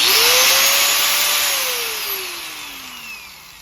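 A power tool with a sanding wheel spins up quickly to a loud whine and then winds down in pitch. A steady airy rush lasts throughout, and no voice is heard.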